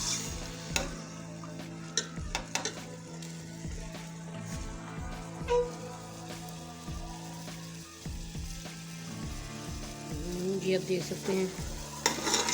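Chicken frying in hot ghee in a pan, a continuous close sizzle with repeated sharp scrapes and knocks of a utensil stirring, and a brief voice speaking partway through.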